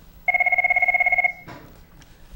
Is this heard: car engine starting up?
no